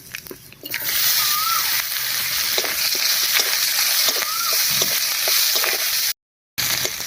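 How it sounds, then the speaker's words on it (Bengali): Nigella seeds, dried chillies and chopped onion sizzling loudly in hot fish oil, a continuous close crackling fry with occasional stirring taps, briefly cut to silence near the end. "ফোড়নের জন্য আমি তেলের মধ্যে দিয়ে দিচ্ছি হাফ চামচ কালো জিরা, 2টো শুকনো লঙ্কা, একটা পেঁয়াজ কুচি"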